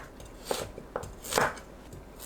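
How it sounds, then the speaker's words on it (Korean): A few sharp knife chops through chestnuts on a cutting board, spaced irregularly, close by and fairly quiet, with no talking. "밤 250g을 믹서에 갈기 좋게 대충 썰어주세요."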